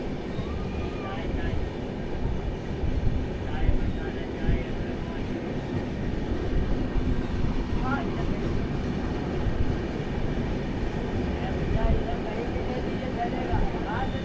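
The Telangana Express runs along with a steady, continuous rumble and clatter of wheels on track, while people talk over the noise.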